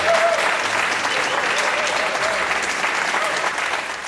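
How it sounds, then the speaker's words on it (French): Studio audience on a French television game show applauding steadily and densely for the full stretch, loud and close, with no voices over it. "George Michael marque un point, on l'applaudit."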